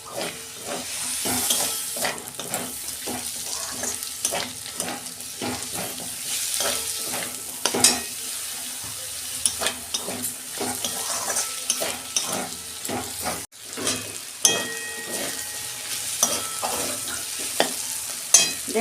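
Tomatoes fry with peanuts in a pan for semolina upma, a continuous hissing sizzle under repeated rhythmic stirring and scraping strokes of a spoon against the pan.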